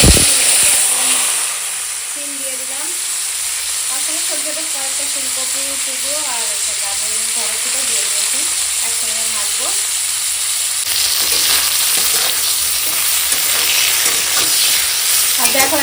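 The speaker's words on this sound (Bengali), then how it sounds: "এখন সিমটা এরকম হালকা ভাজা হয়েছে" Flat beans, first salted and steamed, frying in hot oil as they are stirred, giving a steady close sizzle with scraping stirs throughout and a brief voice partway through.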